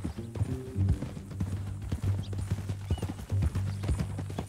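Horse hooves clip-clopping at a steady walking rhythm in Red Dead Redemption 2, close and fairly loud, with a brief neigh-like tone and low background tones, no talk.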